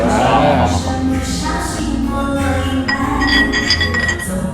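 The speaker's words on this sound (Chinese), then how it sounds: "来，干杯！" Glasses clink together in a toast among friends at a karaoke gathering, with bright, brief chimes near the end over a steady murmur of music and room noise.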